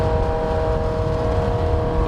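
Motorcycle engine kept on the throttle while the clutch is pulled in, giving a close, continuous, steady droning hum with no breaks for about two seconds.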